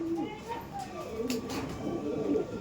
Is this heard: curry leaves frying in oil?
no